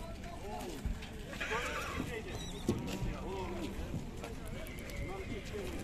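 Horses neigh and whinny at a busy livestock market, with rising and falling calls repeating over hoof clip-clop and constant crowd chatter, people talking throughout.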